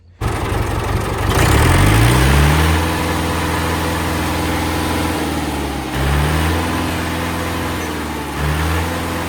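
A Mahindra 475 diesel tractor engine starts up and runs with a steady, loud, low chugging throb, its pitch rising and dipping slightly as it idles.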